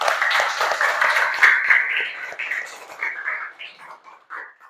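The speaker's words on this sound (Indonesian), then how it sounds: "beri tepuk tangan untuk kita semua" A class of children claps their hands in a classroom, quick uneven claps that thin out and fade, with some voices mixed in.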